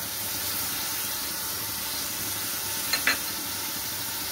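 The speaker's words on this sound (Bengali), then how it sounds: "আমি এবার বিনসও দিয়ে দিচ্ছি," Beans and vegetables stir-fry in a pan for home-style egg chowmein, a steady moderate sizzle and hiss with two quick scraping clicks near the end; no one speaks.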